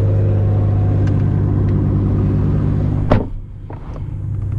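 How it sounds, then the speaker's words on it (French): A Lamborghini Huracan Performante V10 holds a deep, loud, steady engine roar that cuts off abruptly near the end, leaving a fading rumble, with no voices. "Tu vois, le V10 ça gueule quand même plus."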